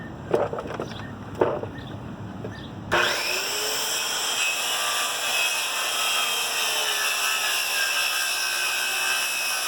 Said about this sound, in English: before you start cutting the wood